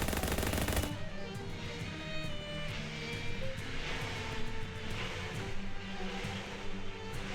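Gunfire in the video game Shadows Over Loathing, a rapid burst of machine-gun-like shots opening the clip, followed by continuous game sound with rhythmic tones underneath.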